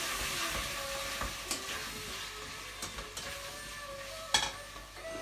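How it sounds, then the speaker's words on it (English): A spoon stirs chicken curry with potato and cauliflower in a pot, soft scraping and sizzling with a few sharp knocks against the pan, close and without talk. "Stir everything and let this sit a bit."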